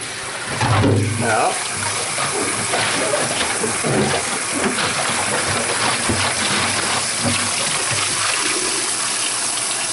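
Tap water gushes into a plastic wine carboy to rinse out leftover Clorox, a loud steady splashing and sloshing that carries on throughout, with a brief spoken word near the start.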